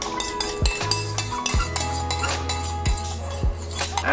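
Eggs are beaten in a bowl with a utensil, giving repeated close clinks and scraping taps against the bowl in an uneven rhythm, loud and alone in a kitchen while cooking egg momos.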